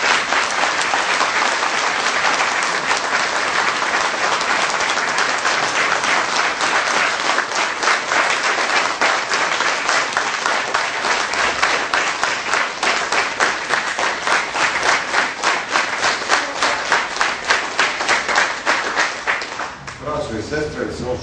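A crowd at a political party rally applauds to greet a politician, loud sustained clapping that runs steadily for about twenty seconds before a voice starts to speak as it fades.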